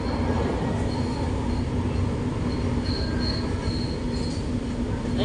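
A Manila LRT light rail train runs steadily with a constant rumbling roar and repeated high wheel squeals throughout, loud and close as if heard from inside the car.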